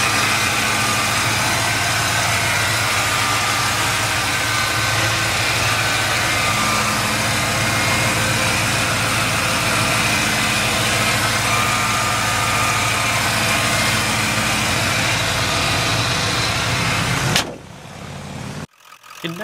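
A 1994 Ford F-150 XLT pickup with a 5.0 V8 idles with a steady, close exhaust rumble for most of the stretch, then cuts off abruptly into near silence at the very end.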